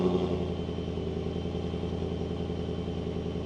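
A 2008 Volvo XC90 V8 Sport idling through a non-stock aftermarket exhaust, a deep, steady burbling rumble with an even pulsing lope, close and loud throughout.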